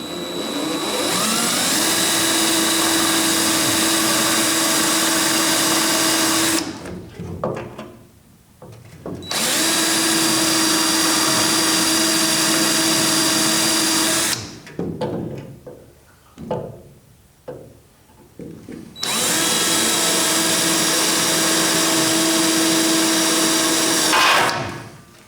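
A spot weld cutter on a drill bores into the metal of an old truck cab during restoration, in three long, loud, close whining bursts separated by brief pauses with clatter.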